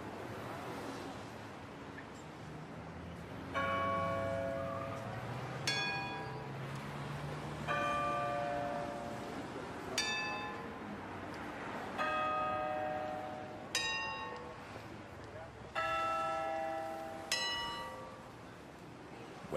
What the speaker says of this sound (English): Big Ben is ringing.